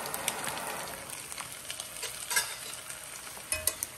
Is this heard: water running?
no